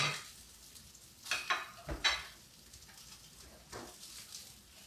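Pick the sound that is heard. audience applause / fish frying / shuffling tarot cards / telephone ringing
fish frying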